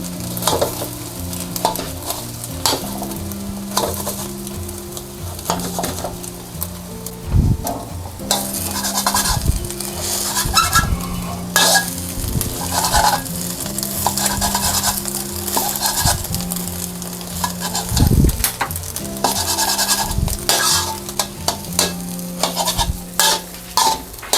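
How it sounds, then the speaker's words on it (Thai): A metal spatula cuts cooked egg into squares in a sizzling frying pan, making repeated sharp scrapes and taps against the pan over a continuous fry. "ใช้ ตะหลิวเรานี่แหละค่ะ แบ่งชิ้นเขา ชิ้นสี่เหลี่ยม"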